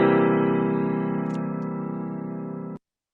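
A dominant seventh chord is played once as a sustained harmonic chord in a harmony lesson, ringing steadily and slowly fading for nearly three seconds before stopping abruptly.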